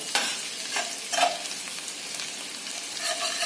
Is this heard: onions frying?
yes